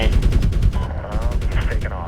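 Rapid bursts of helicopter gunner fire in the video game Medal of Honor, loud chattering machine-gun volleys in quick succession, close and dominant, with a brief gap midway.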